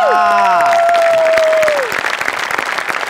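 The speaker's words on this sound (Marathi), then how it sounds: "राहून टाळ्या वाजवल्या पाहिजे" Studio audience applause on the Marathi comedy show Maharashtrachi Hasya Jatra, starting after a descending synthetic whoosh and building into dense, sustained clapping that continues to the end.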